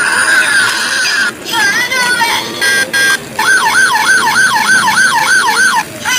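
A toy police car siren wails in a rising-and-falling pattern, briefly interrupted early, then looping steadily and loud, close by, with other toy electronic sounds at the start and a child-friendly voice talking under it.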